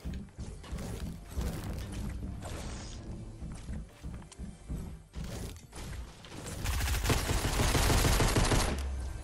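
Rapid bursts of gunfire in the video game Fortnite, sharp repeated shots with mechanical clicks between, moderately loud and dense toward the end.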